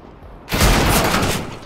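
Loud burst of gunfire from CS:GO competitive play erupts after a brief quiet moment, then rings out with a sustained crackling rattle for over a second.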